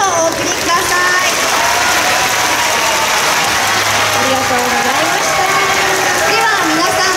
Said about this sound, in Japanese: 一組のチームの皆さんにもう一度大きな拍手をお送りください。